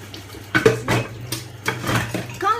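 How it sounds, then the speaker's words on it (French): Dishes are washed by hand at home, with close, repeated clatters of plates and cutlery over a light watery background and no voices. "c'est dur de parler sur la vaisselle en même temps"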